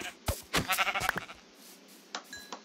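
Sheep in Minecraft bleat in a few short, nasal cries, close and clear, spread across a quiet moment with small game clicks around them.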